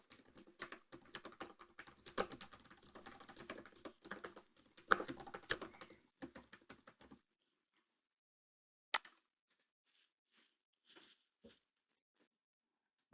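Close, quick clattering keystrokes on a computer keyboard run steadily for about seven seconds, then stop, leaving a few isolated faint clicks and taps.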